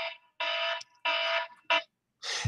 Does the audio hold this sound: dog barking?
no